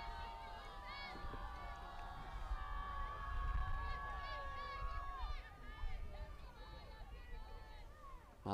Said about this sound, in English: Hear the chants from the crowd for Mandy Essman as she takes ball one